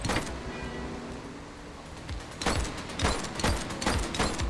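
Gunfire in the police video game The Precinct: a run of sharp, loud shots rings out in the second half over a steady background rumble, with no speech.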